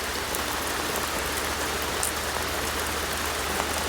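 Steady, dense rain pouring down during a rainstorm, a loud, even hiss of drops striking surfaces with no pauses and no voices.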